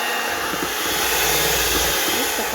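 An electric mixer whips meringue with a continuous, loud whirring drone that holds steady and edges slightly higher as it runs.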